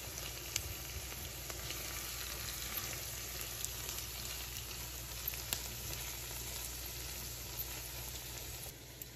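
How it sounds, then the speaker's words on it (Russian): A frying base of vegetables in a pan for navy-style pasta sizzles steadily as it is stirred, with a constant hiss, faint crackles and occasional scrape ticks and no talking. "Помешиваем зажарку."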